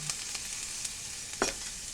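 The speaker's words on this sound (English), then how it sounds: "So I'm just going to saute this up a little." Kale sautéing in a cast iron pan with little or no oil, giving a steady, soft sizzle with faint crackles and one brief louder scrape of stirring, no voices.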